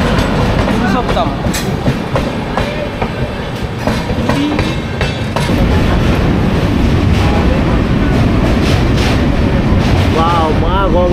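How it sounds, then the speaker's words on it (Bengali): A Doon Express made up of new LHB coaches runs steadily, with continuous rail clatter and rhythmic wheel clicks, a rumbling ride noise throughout and a few brief squeals toward the end. "আমাদের ট্রেন এসে পৌঁছালো অযোধ্যা ধাম জাংশনে"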